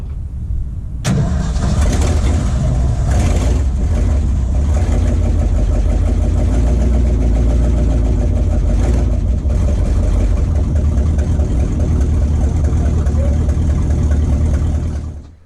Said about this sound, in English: But man, he idles. He idles so good.